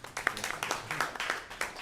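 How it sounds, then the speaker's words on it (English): A small audience at a blockchain talk gives a round of applause, sparse, quiet claps with distinct individual slaps at an irregular pace, and a little speech mixed in. "Round of applause."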